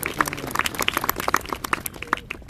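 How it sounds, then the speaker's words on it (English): Audience at a school event in San Jose applauding a speaker, a burst of brisk, uneven clapping from a modest crowd that stays fairly close and thins slightly toward the end. "give Veronica a big round of applause"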